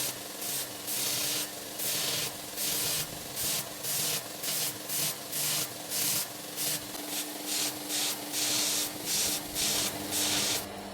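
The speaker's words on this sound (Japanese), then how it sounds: "峰は長時間指を乗せた時に痛くないように慎重に角を丸めながら、形が崩れないように磨いていきます。" A belt grinder polishes and rounds the spine of a 10C28Mo2 steel kitchen knife in repeated, evenly spaced rasping strokes, each about half a second long, over a steady motor hum, close and loud with no talk.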